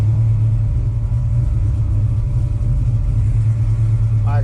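A car with a 363 stroker engine heard from inside during a street ride, giving a loud, steady, deep engine rumble that holds throughout with little change in pitch.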